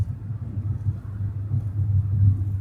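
Low steady rumble of a 1989 Toyota Cressida engine cruising at about 2,300 RPM at 60 mph, heard from inside the car as a continuous droning hum with slight swells and no talk.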